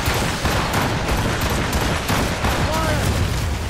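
Cannon and gunfire volleys boom continuously from a naval battle in Assassin's Creed Rogue, dense overlapping blasts at steady loudness with shouted commands mixed in.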